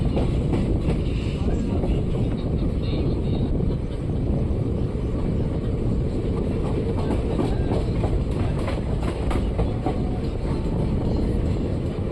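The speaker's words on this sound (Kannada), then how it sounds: "ನಮ್ಮ ಟ್ರೈನ್ ಈಗ ಮಲ್ಲೇಶ್ವರ ರೈಲ್ವೆ ಸ್ಟೇಷನ್ಗೆ ಎಂಟ್ರಿ ಆಗ್ತಿದೆ" A train entering Malleshwaram railway station rumbles along with continuous loud low roar and rattling wheels, steady throughout, with faint wind buffeting and little change in pace.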